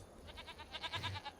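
Goats on a farm in the video game Farming Simulator 25 bleat in a quick run of rhythmic, nasal pulses, soft and slightly distant, rising in a brief cluster near the end, with no voices.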